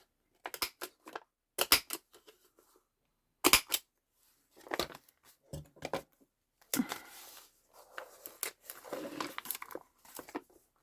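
Scissors snip through paper while a food-packaging journal page is trimmed down, a series of sharp close crisp cuts in short bursts with pauses, followed by softer paper rustling and handling.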